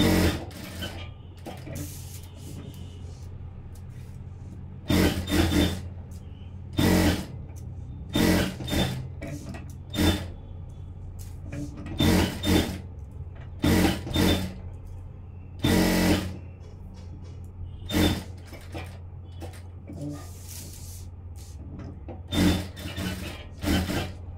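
A sewing machine runs in repeated short bursts with pauses in between, stitching along the lining of a blouse, close and fairly loud with no talk.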